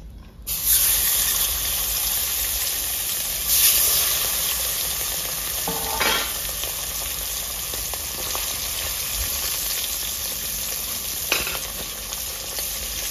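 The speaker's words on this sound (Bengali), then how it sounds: "বাকিগুলো এইভাবে ভেজে নেবো।" Pomfret fish frying in hot mustard oil in a rustic home kitchen, a steady loud sizzle and hiss running throughout with brief surges and occasional scraping stirs, no talking.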